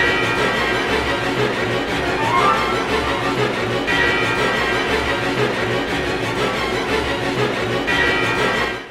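Music from the video game Drakengard, a dense, droning, discordant loop with harsh layered tones that swells in repeating cycles, steady and loud with no voices.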